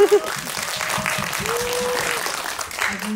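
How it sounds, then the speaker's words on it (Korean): An audience at a film screening with a Q&A applauds, a sustained patter of many hands clapping at moderate volume, with voices and brief talk mixed in underneath. "박수만 부탁드리겠습니다."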